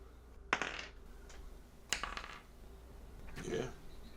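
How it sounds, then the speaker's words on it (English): Dice rattle and clatter across a tabletop in three short bursts, a tabletop game session with players rolling ten-sided dice, close and crisp with faint room noise between rolls. "Everyone roll one of the 10-sided dice."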